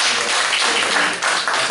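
A church congregation claps together during a Sunday worship service, a dense, close burst of applause that fills the space without a break for under two seconds.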